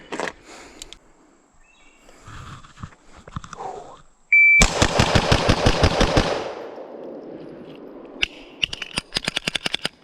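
A Hi-Point C9 pistol fired at a shooting range in a quick, evenly paced string of about ten loud shots, with scattered clicks and quieter handling noises before and after.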